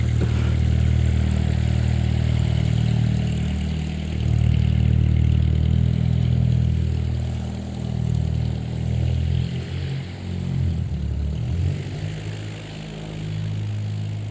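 Propeller airplane taxiing past at an airfield, giving a steady low droning engine rumble that swells slightly and then eases as it moves by, heard alone without voices.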